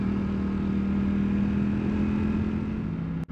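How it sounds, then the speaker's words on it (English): The engine of a Ducati V4 Panigale with its exhaust flapper valve disabled gives a steady, fairly loud droning hum as the bike cruises, ending with a brief click. "they've disabled the flapper valve, so that's why there's a little bit more noise than normal"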